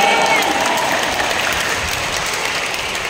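A church congregation applauding during a service, a dense, steady wash of clapping filling the room for a few seconds.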